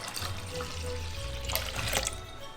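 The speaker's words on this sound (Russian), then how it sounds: "Столько же воды." Water is poured into a bucket of soy-sauce marinade for ramen, giving a brief, steady splashing gush close by that ends with a few louder glugs.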